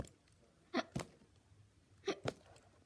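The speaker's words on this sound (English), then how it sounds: "No, I have the hiccups." Hiccups from a person during toy play, four short sharp catches in two close pairs, fairly faint against a quiet room, with no talking.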